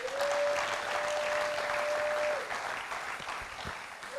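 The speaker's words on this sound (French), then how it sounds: "Est-ce qu'on peut acclamer le Seigneur?" A church congregation applauds steadily and loudly for several seconds, a dense wash of clapping with a faint sustained tone running through the first half, then thinning slightly toward the end.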